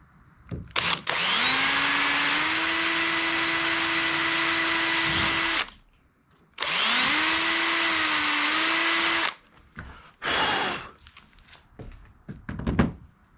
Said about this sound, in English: And get the hole drilled.